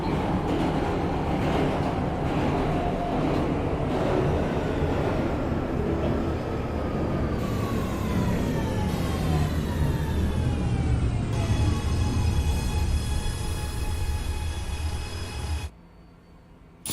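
An NYC Subway R211 A train runs in the OpenBVE simulator game, with a steady loud rumble of wheels and motors and rising and falling whining motor tones, then an abrupt drop near the end.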